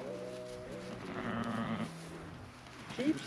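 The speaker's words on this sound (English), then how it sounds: "Sheep, sheep, sheep, sheep, sheep, sheep." A sheep bleats a few times nearby, wavering cries close together, quiet against a soft background.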